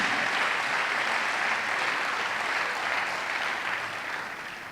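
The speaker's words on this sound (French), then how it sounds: "je veux une acclamation à Jésus" A church congregation applauds and acclaims in a steady, continuous wash of clapping that holds at an even level and fades slightly toward the end.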